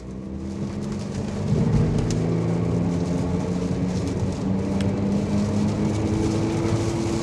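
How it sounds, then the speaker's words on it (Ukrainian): A 2016 Audi Q5 2.0 TDI diesel engine drones steadily from inside the cabin, its low rumble swelling as the vehicle accelerates through town at modest speed, with road noise underneath and no talking. "Це 2-літровий дизель"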